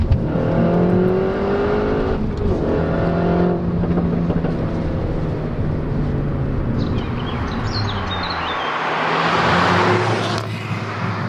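A Renault Megane RS hot hatchback engine revs hard and accelerates, its pitch climbing through gear changes, loud and close, ending in a roaring, higher-pitched surge.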